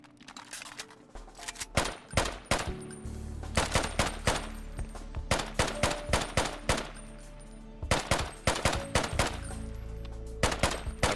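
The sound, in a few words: pistol gunfire in a video game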